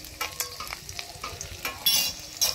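Grated ginger and chopped green chilli hit hot spiced oil in a pan, soft sizzling with scraping stirring strokes and a few louder crackles, close and unaccompanied by talk.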